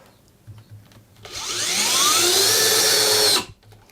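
A handheld Spesyn 3 drill press driving small screws whirs loudly for about two seconds, its motor pitch sweeping and settling as the screw seats, then cutting off sharply.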